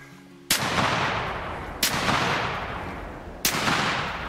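Three loud 12 gauge shotgun blasts fired at ducks in the hunting game theHunter Classic, each a sharp crack with a long decaying tail, evenly spaced about a second and a half apart, no voices.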